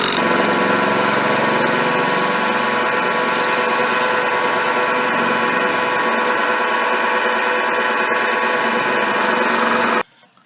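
A metal lathe with a 4-jaw chuck spins at slightly higher RPM for a light finishing cut on an interrupted surface, a steady close motor whine with a faint rhythmic pulse, stopping abruptly near the end.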